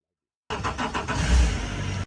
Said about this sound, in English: The engine is on, and then we can sail.